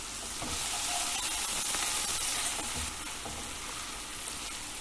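Mushrooms and chili flakes sizzle in a pan, a loud hissing fry that swells then eases off toward a quieter, steady crackle, with faint stirring noises.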